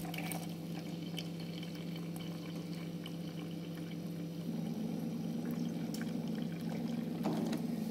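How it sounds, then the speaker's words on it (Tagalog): Hot water is poured for morning coffee, a faint steady trickling stream that swells slightly toward the end, heard close and alone in a quiet room. "lagyan muna natin na tubig na mainit"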